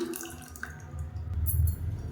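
Water trickles and splashes briefly into a mixer jar of freshly ground batter for masala adai, a short close pour with a faint dripping texture.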